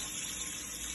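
Rice being rinsed under a running kitchen tap while cooking an Indian dinner, a steady close hiss of flowing water with no voices.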